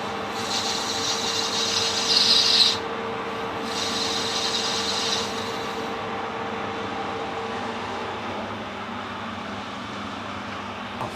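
A screw-cutting tool cuts threads on a brass plunger pump part on a lathe, giving a steady rasping scrape with two brighter bursts before settling into a quieter continuous hum.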